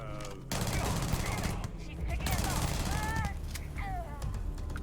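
Rapid SMG gunfire from the video game Starfield, dense bursts running through most of the stretch and mixed with game effects and a talking voice.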